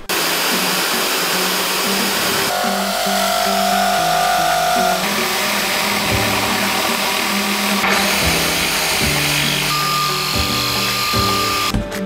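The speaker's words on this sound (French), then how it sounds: "on va percer les 2 trous là avec une mèche diamant de 12" A power drill with a 12 mm diamond bit bores holes for a bathroom vanity during a renovation, its motor whining loudly and continuously with shifts in pitch as the bit cuts.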